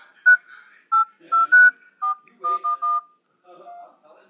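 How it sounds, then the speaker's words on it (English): A smart watch plays short, clean electronic dialing tones as buttons are pressed, about eight separate beeps in an uneven rhythm, heard close and clear with no other sound between them. "Oh, you can dial. Can you call?"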